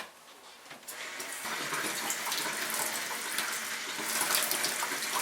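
Very hot water gushes steadily from a kitchen tap while bread dough is being prepared, a loud continuous splashing rush that starts abruptly and swells slightly, with no voices.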